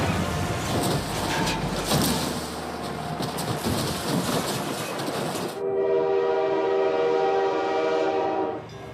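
A train rolls past at a level crossing, its wheels rattling and rumbling loudly, then the horn blares in a long, sustained, harmonic blast that fades out near the end.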